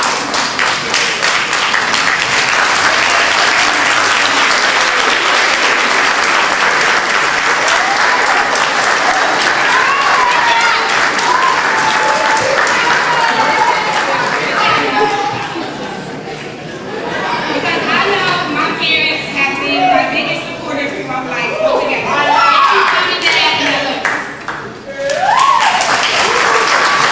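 A commencement audience applauds the graduates' parents with loud, sustained clapping, and cheers and chatter rise over it in the second half as the ovation continues.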